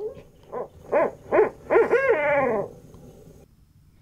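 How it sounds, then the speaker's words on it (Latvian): A run of owl hoots, about five short calls rising into a longer drawn-out hoot, fairly close and clear with no talking. "Valter, tā ir pūce."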